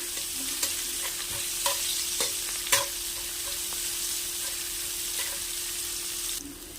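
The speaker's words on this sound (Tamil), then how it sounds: "வெங்காயத்தை நல்லா வதக்கி எடுத்துக்கலாம்" Onions sautéing in oil with cumin and salt for a brinjal fry, a steady close sizzle with a few sharp scrapes and taps of a spoon stirring the pan, no voices.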